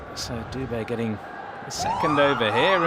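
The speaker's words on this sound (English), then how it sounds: "You can hear the siren in the background" A no-ball siren wails at a cricket stadium in Delhi, rising loud under a commentator's voice in the second half.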